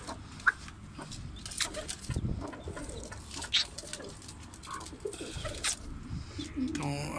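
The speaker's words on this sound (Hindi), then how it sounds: "तो अभी ये अंडों पे आके बैठ जाएगी मुर्गी है।" A desi hen clucking softly beside newly hatched chicks in a farmyard, with scattered short clucks and faint peeps over background noise and occasional bird calls.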